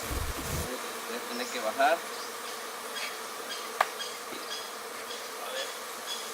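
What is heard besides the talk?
swarm of aggressive bees buzzing near a hive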